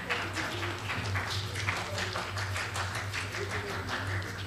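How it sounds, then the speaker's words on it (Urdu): Audience applause at a mushaira poetry gathering, a soft, continuous wash of clapping heard at a distance under a low steady hum, with faint voices in the background. "اور آپ تالیاں بجائیے نا صاحب"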